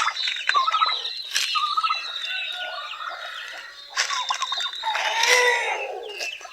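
Rhode Island chickens cluck and call in a cluster of overlapping bird vocalisations, moderately close, with bursts of louder squawking near the end and no talk.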